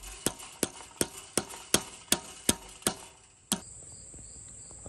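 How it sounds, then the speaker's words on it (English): A rubber mallet taps on a part of a Stinger chopper motorbike, eight sharp evenly spaced knocks followed by one last tap after a short pause, close and clear with no talk. "one thing I do is tap it with a rubber mallet"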